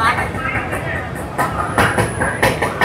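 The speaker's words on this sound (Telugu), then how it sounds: "సో ఇప్పుడైతే ట్రైన్ వచ్చింది" A train rumbles into a platform at Chennai railway station, with a steady rolling clatter and rising metallic screeches over the hubbub of people talking nearby.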